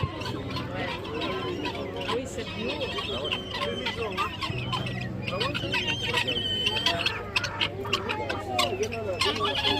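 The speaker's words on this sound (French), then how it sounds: "Viens, tu veux voir les autres poules?" Hens clucking steadily in a farmyard, joined by other fowl and squeals and a rooster's crow, close and continuous throughout, with people talking over them.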